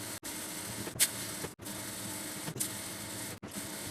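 A sewing machine stitches the side seams of a pair of pants in a steady, close whir, broken by a few brief stops and a short sharp click.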